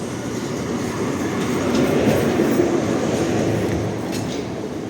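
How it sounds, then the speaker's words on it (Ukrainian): Tram number 9 rolls along a street in Lviv, Ukraine, a steady close rumble of wheels on rails that swells slightly and then fades a little, continuous throughout, with faint clatter and no talk. "Трамвайчик номер 9 тепер на торф'яну їздить з вокзалу."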